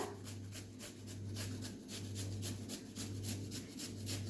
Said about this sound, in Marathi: या किसणीवर ना आपल्याला हे बीटरूट सगळ्या बाजूला किसून घ्यायचं आहे